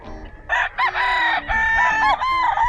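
Larry Romero Grays gamefowl roosters, pure Grays, crowing loudly and close by, with several long overlapping cock-a-doodle-doo calls following one another, plus a few lower clucks underneath.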